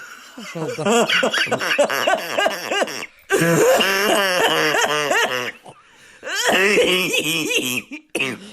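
A woman coughs in rough, repeated fits mixed with breathless, wheezing laughter, in three long bursts separated by short pauses.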